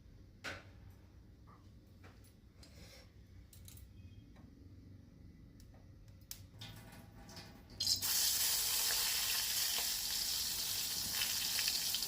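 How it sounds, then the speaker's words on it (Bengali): Eggplant (brinjal) goes into a hot wok, and after quiet kitchen clicks and rustles a loud, steady sizzle bursts out and continues close by. "যেহেতু আজকে নিরামিষ সেহেতু একটু বেগুন ভেজে নিচ্ছি"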